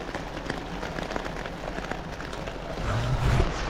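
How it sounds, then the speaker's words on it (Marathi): Heavy rain drums steadily on a tin roof over a tent in Kedarnath, a dense continuous patter that swells slightly louder near the end. "इतका पाऊस चाललाय आणि त्यात थांबलोय मी टेंटमध्ये"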